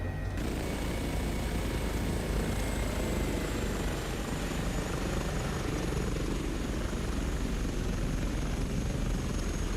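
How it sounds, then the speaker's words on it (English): An Airbus H145 helicopter in Microsoft Flight Simulator passes on a flyby, its steady, dense rotor and turbine roar filling the whole stretch at constant loudness, with no talk over it. "Shall we have another chase plane flyby?"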